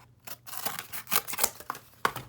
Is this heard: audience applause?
no